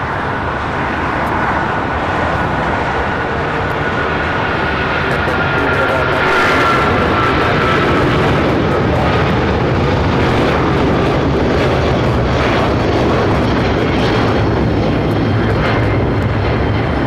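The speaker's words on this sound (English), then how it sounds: "Also Turkish, arriving from Istanbul, also a 777 arriving on the north side." A Turkish Airlines Boeing 777 arriving from Istanbul at LAX on the north side roars steadily and loudly overhead, a continuous broad jet engine rumble swelling slightly mid-pass, with distant traffic beneath.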